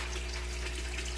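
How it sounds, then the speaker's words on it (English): Fish water gushing steadily into hydroponic tomato bins, a constant close rushing flow with no pauses or voices. "I fill the bins with fish water"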